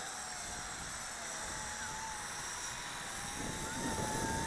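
A WLtoys Q202 RC aircraft flying at a lake, a thin, steady high whine of small electric motors and propellers with a faint rising tone, holding at moderate level throughout.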